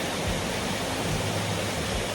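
Gee Creek Falls pours down in a steady, even broadband rush of falling water, close and constant with no voices.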